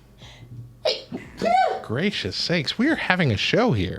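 One sharp sneeze right at the start, close and loud, immediately followed by a person talking with an exclamation.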